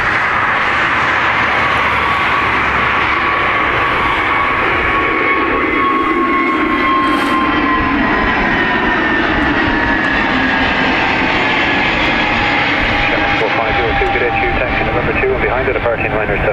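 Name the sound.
Ryanair jet aircraft taking off at Dublin Airport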